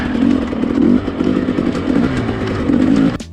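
A Yamaha YZ125 two-stroke motocross bike ridden close by, its engine loud and raspy with rising and falling revs over a few seconds before cutting off abruptly.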